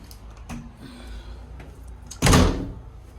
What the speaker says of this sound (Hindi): अरे पीछे वाला दरवाज़ा बंद करना भूल गया,